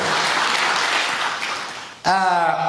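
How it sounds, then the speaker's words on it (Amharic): A church congregation claps in a broad, sustained round of applause that fades and is abruptly cut by a voice speaking loudly over the room. "እስኪ አጨብጭቡ ለሰራዊት ጌታ ለእግዚአብሔር"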